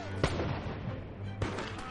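Battlefield gunfire in thick fog, with two sharp reports standing out over a continuous rumbling din of distant shooting and low background noise.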